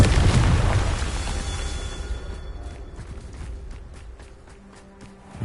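A Confringo fire spell bursts in the Hogwarts Legacy video game with a loud booming explosion that rolls and fades over several seconds, followed by lighter footstep-like taps.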